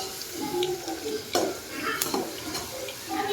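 Onion sautéing in masala in a pan for a paneer curry: a steady sizzle with clinking spoon stirs and scrapes against the pan, close by and moderately loud.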